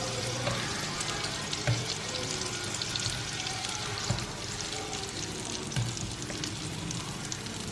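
Sliced nendran banana frying in ghee in a pan makes a steady, moderate sizzle with occasional soft stirring knocks, close by and without talking.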